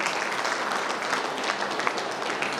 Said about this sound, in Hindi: तो इनके लिए एक जोरदार ताली।